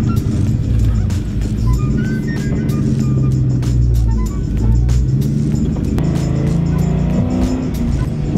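Race car at a time attack event: a steady, loud engine drone that rises and falls in pitch through gear changes, with clicks and road noise throughout and no talk.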